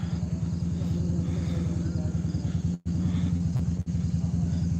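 A supercharged big-block V8 with a 14-71 blower on a 4x4 competition vehicle idles with a loud, lumpy, rapid pulsing rumble. The beat holds steady throughout, broken only by two brief dropouts.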